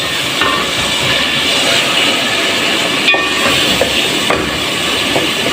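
Daal mash lightly frying in a pan gives a steady, dense hiss of sizzling with a few small crackles and pops scattered through it.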